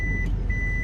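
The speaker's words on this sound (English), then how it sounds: "I'm backing up to the beeping" A vehicle's reversing alarm sounds as steady high-pitched beeps, two or three evenly spaced tones over low engine and road rumble, moderately near and heard alone without talk.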